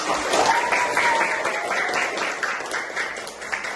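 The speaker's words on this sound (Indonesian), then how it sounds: "tepuk tangan semuanya" A classroom full of students claps together in a sustained burst of applause, loud and continuous for a few seconds.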